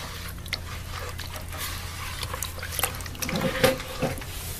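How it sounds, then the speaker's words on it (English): Paper-mache wheat paste is stirred by hand with very cold water, producing wet, goopy squelches and light splashes with a few sharp clicks of a utensil against the bowl, close and moderately loud. "you do small amounts, mix it in before you add the next batch of dry."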